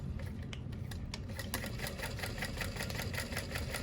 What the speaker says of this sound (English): And then I'm gonna sew along the bottom edge